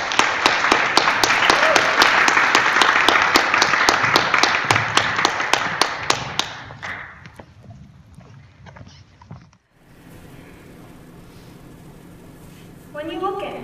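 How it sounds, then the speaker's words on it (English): An audience applauds at a TEDx Youth event in Fort Worth, loud sustained clapping that fades over several seconds into a quiet hall, followed by a voice starting to speak. "Please give a big round of applause for Ramesa with her talk"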